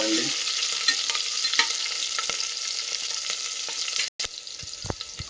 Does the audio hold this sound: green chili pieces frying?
yes